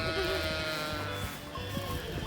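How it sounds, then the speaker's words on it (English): Newborn goat kids bleating repeatedly close by in a barn setting, high wavering cries over a steady background, with people talking faintly underneath. "we heard that one of the goats had two little ones"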